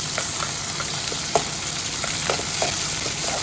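Chopped onion frying in oil until golden brown for vangibath, a steady close sizzle with occasional light stirring taps and crackles.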